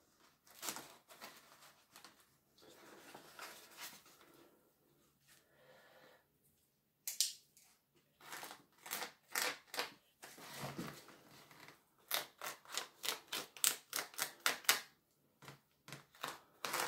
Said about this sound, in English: just use the scissors and cut around it